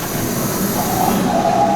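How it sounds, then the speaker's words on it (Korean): A subway train rumbles steadily from inside the car, a continuous close rolling roar with a faint high wheel squeal toward the end and no voices. "평소처럼 지하철에 오르는데요."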